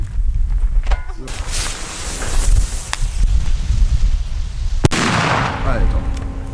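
Exploder 4 P1 firecrackers of 4.5 grams going off outdoors in winter, one sharp, loud bang near the five-second mark standing out amid a few lighter pops and steady background rumble, with people talking around it.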